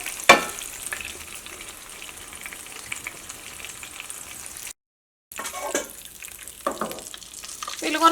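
Chicken for chicken kondattam fries in hot oil with a dense, crackling sizzle heard close up, broken by a sharp clatter early on and a short gap midway, then resuming with stirring scrapes.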